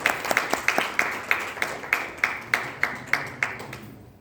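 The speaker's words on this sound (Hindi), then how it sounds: "हम तालियों से मीता जी का स्वागत करें" Hand claps ring out one at a time in an evenly spaced rhythm, crisp and close, welcoming a speaker at a Hindi book review gathering, then stop.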